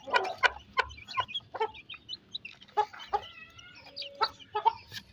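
An Aseel hen of the Heera Qandhari line clucks among her chicks in a series of short, close clucks and calls, with thin high chick peeps between them and no talking.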